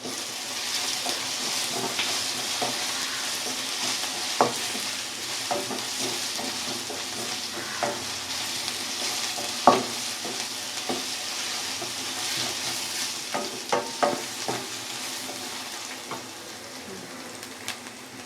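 Onions fry in a pan for a fish-curry base, a steady soft sizzle running throughout with occasional clinks and stirring knocks of a utensil, fairly quiet and without voices.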